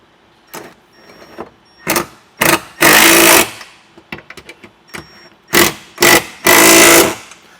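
A tool tightens the bolts of a MORryde heavy-duty spare tire carrier on a Jeep, firing in several loud, close whirring bursts of rising length separated by short pauses.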